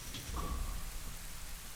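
Rain and a low rumble of thunder in the video game The Legend of Zelda: Ocarina of Time, a steady wash of rainfall under a deep rolling boom, with no talk.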